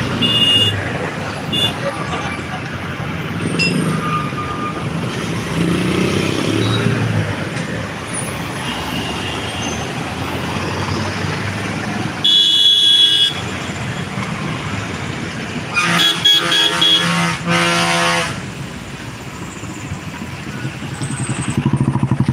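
Steady roar of NH4 highway traffic, with cars, buses, trucks and motorcycles rushing past close by and occasional louder passes, as someone talks over the continuous road noise.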